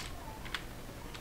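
A command typed on a computer keyboard, just a few faint, sparse key taps spread over a short moment against a quiet background hiss, with no talk.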